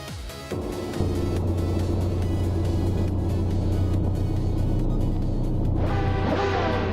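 1995 IndyCar race cars in a racing video game at the Denver Pepsi Center track roar with a steady, loud engine drone after the start, and a higher whine joins near the end.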